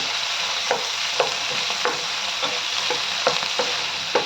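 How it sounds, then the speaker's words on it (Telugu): Onions and green chillies fry in a pan with a constant bright sizzle, while sharp stirring clicks and scrapes land every half second or so. "నెక్స్ట్ ఆనియన్స్ వేసుకోవాలి కొంచెం బాగా ఫ్రై అవ్వాలి"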